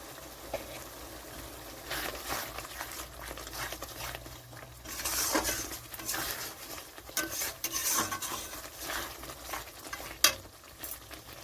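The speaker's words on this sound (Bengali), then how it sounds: "এখানে আমার মশলাটা কষানো হয়ে এসছে একটু।" Spice masala with Kashmiri chilli powder being sautéed in a pan, a soft low sizzle under intermittent scraping stirs of a spoon, fairly quiet and close.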